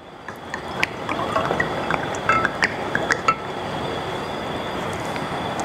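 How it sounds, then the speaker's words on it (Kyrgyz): Water is poured into a glass or cup at a meal table, a soft liquid trickle with a few light clinks, close and fairly quiet, with no talk over it. "Так, бул жака суудан куюп алалы дагы."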